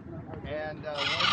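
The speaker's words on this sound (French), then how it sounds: "perroquet." A parrot on a quay in San Diego gives a few short, bright squawking calls that grow louder toward the end, close by over faint background murmur.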